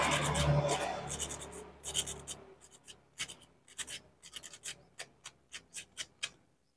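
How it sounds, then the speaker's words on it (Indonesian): Rhythmic rasping strokes of sanding the small metal tip of a gas stove igniter, quick scratchy bursts repeating steadily, close up with no talking. "Lalu ujung pada busi ini kita amplas."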